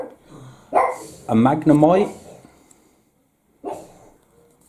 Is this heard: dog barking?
yes